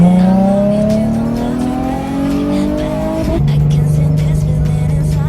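A Nissan 350Z, just repaired with a new camshaft sensor, drives around the block, its engine rising steadily in pitch through a gear, dropping on a shift, then pulling again, loud and close throughout with road noise.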